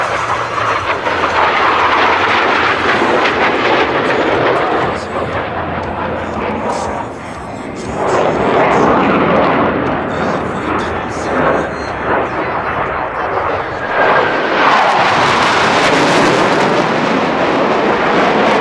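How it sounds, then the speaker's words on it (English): US Navy Blue Angels jets roll past at the 2019 New York International Air Show with a loud, sustained roaring rush that swells and fades. An announcer's voice comes through over the PA against the jet noise. "Approaching center point, they will roll their aircraft 360 degrees, pausing after each 90 degrees of rotation, crossing center point in the inverted position"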